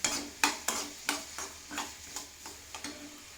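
Mango pieces are stirred with Kashmiri chili powder in a pan, making a series of soft, evenly spaced scraping knocks of a spoon against the pan over a faint background.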